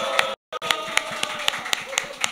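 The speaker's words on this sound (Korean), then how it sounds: "박수 환호 한번 들어보겠습니다." An audience at a live public talk concert claps in a steady, even rhythm after a short break of silence, with a faint murmur of voices under the sharp, regular hand claps.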